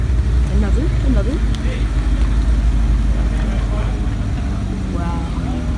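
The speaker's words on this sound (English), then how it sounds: "look at this R8 rolling in" An Audi R8 sports car rolls into an outdoor cars and coffee meet, a low, steady engine rumble over a noisy background, with people talking excitedly nearby.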